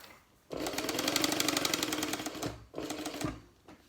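A sewing machine stitches a mini wallet in a fast, rapid needle run of about two seconds, then a brief pause and a shorter burst, close and fairly loud with no talk.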